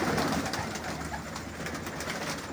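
Pigeons coo softly amid a noisy, hissing background, their low murmuring calls repeating at a moderate distance.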